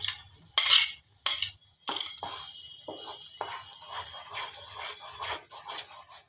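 A spoon clanks and scrapes in a pan as mango pulp is added while making mango barfi sandesh, with a few sharp metallic knocks followed by softer scraping, all close and fairly quiet.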